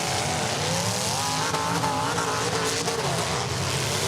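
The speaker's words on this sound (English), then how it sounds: "Tony Godwin racing around. Ooh. Starting to get heated up." Pro stock race cars roar around the track in a national feature race, loud continuous engine noise with rising and falling revs and some tire squeal, no talking.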